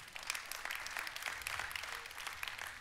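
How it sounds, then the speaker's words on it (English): A church congregation claps during a sermon, a faint, scattered patter of applause that stays steady for a few seconds. "Yeah, you can clap for that."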